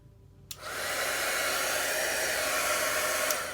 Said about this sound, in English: I don't hold my heat gun on it, that's just too much heat.